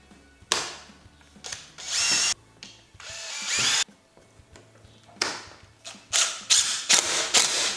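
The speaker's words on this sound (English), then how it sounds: "we're going to pilot two more holes a little farther up" A power drill bores pilot holes into the roof edge of a pop-up camper in short, repeated bursts, each whine starting and stopping abruptly with brief quiet gaps between, close and fairly loud.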